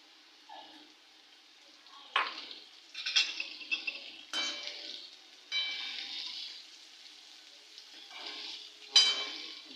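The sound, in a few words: onions frying and being stirred in a pan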